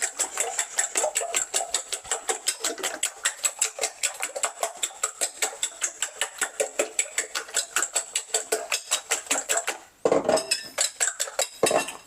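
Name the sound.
whisking eggs in a bowl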